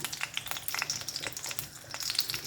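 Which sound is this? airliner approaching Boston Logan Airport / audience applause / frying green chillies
frying green chillies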